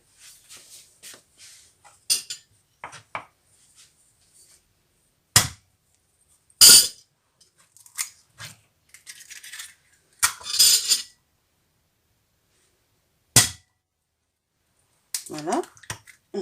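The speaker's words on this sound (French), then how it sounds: "Et là, on va mettre nos œufs à l'intérieur." Eggs being cracked and dropped into a hollow in a bowl of corn flour for cornmeal crepes, heard as scattered sharp taps and clinks with quiet gaps between them. A person speaks in between the sounds.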